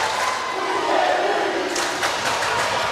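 Students cheer loudly in the stands at a home high school volleyball game, a roaring crowd with shouts and whoops swelling and staying strong to the end.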